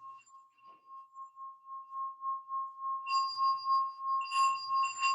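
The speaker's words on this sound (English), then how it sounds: "the singing bell." A singing bowl-style bell rings during a yoga class, a steady sustained tone near and clear, with brighter overlapping strikes swelling in the last two seconds.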